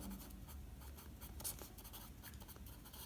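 A pen or chalk writing by hand over a steady background hum: soft continuous scratchy strokes, faint and close, with no talking.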